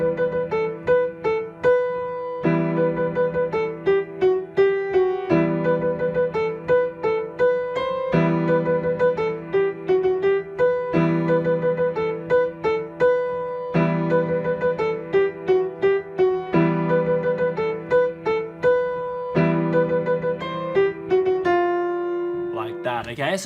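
Solo piano plays the main theme of a song, a bright melodic phrase repeated several times over a steady left-hand pattern, clear and close throughout.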